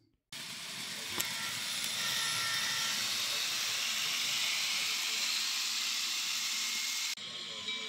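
A small model steam locomotive runs with a loud, continuous hiss of steam and faint mechanical clatter, then cuts off abruptly near the end.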